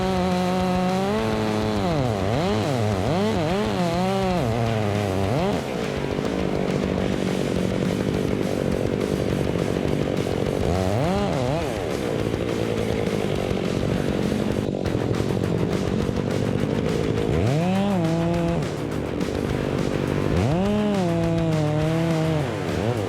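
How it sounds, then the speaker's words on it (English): A big chainsaw cutting through a tree trunk, its engine rising and falling in repeated loud revving bursts as the chain bites into the wood, steady and close with no talk. "As the blade makes contact with the tree trunk, the chain starts slicing through, sending sawdust flying."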